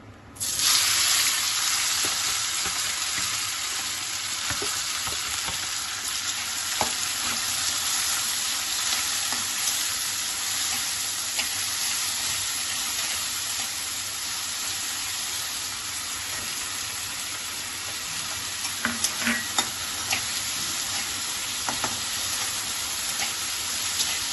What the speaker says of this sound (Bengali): এবার এটাকে ভালো করে কষাতে হবে।